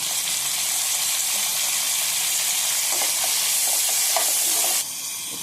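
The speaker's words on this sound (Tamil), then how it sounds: "பச்சை மிளகாய், தக்காளி ரெண்டையும் சேர்த்து வதக்கிக்கணும்" Green chilies and tomatoes sauté in a hot pan for a paneer kurma, a loud continuous sizzle with a few faint stirring clicks near the end and no talking.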